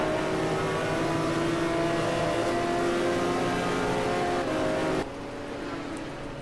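GT1 race cars circle Suzuka in a racing game, engines holding a loud sustained high drone of close-racing revs that abruptly drops to a quieter, lower tone near the end.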